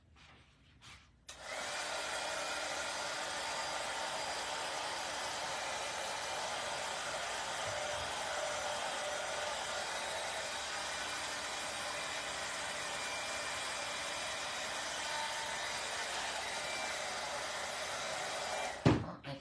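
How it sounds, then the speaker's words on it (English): A hair dryer runs steadily for the full stretch, drying glue on foam sheets for a large rose, with a constant close, breathy whir that switches on after a short pause and cuts off at the end. "let's do the dryer one more time"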